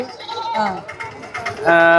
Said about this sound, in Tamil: சூப்பராக இருக்குது ஒரு செம்மறி குட்டி